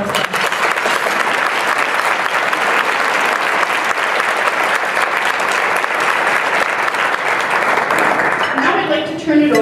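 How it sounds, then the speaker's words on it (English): An audience at a recognition luncheon breaks into loud, sustained applause that fills the room, then a voice begins speaking as the clapping fades at the end. "can we please give them a round of applause?"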